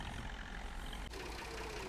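A tractor engine idles in Farming Simulator 19, a steady, close, loud drone with a slight dip partway through and no voices.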